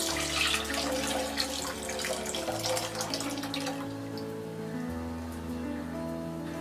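Tamarind water pours steadily into a pot for South Indian rasam, a continuous close liquid splash and trickle with a low steady hum underneath.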